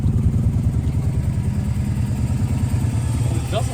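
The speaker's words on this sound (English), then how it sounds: "It shockingly runs. Sounds like it might have a pretty good misfire." An abandoned Subaru WRX engine idles roughly with a misfire, a close, steady low rumble with an uneven pulsing beat throughout.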